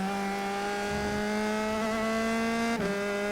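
A USF2000 race car on the Watkins Glen circuit holds a steady, buzzing engine note, briefly dipping and rising as the throttle is applied, close and continuous with no talking.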